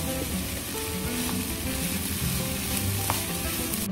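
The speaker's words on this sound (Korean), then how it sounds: "새우가 반쯤 익었다 싶을 때 밥을 넣고 섞어주세요" Rice and half-cooked shrimp stir-fried together for cream risotto: a dense, continuous sizzle with soft scraping as the pan is stirred, close up and without talk.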